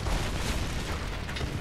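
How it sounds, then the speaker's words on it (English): An explosion in the Tomb Raider video game gives a dense, roaring, rumbling burst that stays loud and sustained for its whole length, with no talking. "Go where the explosion just was."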